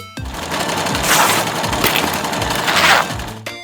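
A sewing machine runs in steady, fast mechanical bursts, its rapid stitching clatter rising and easing a few times before stopping abruptly.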